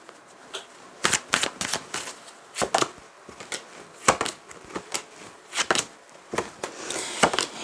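Tarot cards are drawn and shuffled close by in a quiet room, giving repeated crisp riffling bursts and soft slaps at an uneven rhythm.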